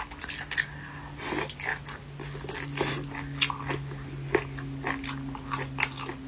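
Close, crisp chewing of sour-spicy boneless chicken feet, repeated wet crunchy bites and mastication at a steady pace with a low hum beneath.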